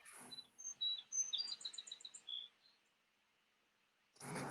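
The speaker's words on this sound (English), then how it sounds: "is that bird at your place?" Bird calling at someone's home, a series of bright high chirps and short trills over about two seconds, then silence before a burst of noise; faint and fairly close, no talking.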